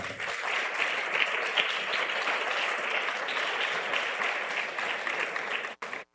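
A church congregation claps during a sermon, a broad, even wash of applause lasting several seconds before cutting off abruptly.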